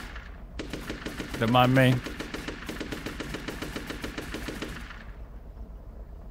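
Rapid automatic gunfire from a gun in a video game, a close, steady burst of shots lasting several seconds, with a voice speaking briefly over it.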